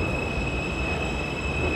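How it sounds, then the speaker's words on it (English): A New York subway train passing, a loud, steady rumble of wheels on rails with a thin, sustained high squeal running over it, filling the short stretch without pause and without voices. "Oh, there's the subway."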